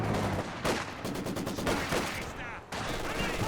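Machine gun fire from a Company of Heroes 2 battle, loud and dense throughout with dull, rolling bursts of gunfire from MG positions under continuous mixed game noise.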